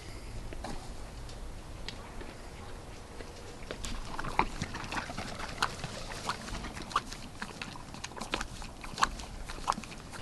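A horse licking and chewing on a salt block, continuous close wet licking with irregular sharp clicks and crunches of teeth on the block, no talk.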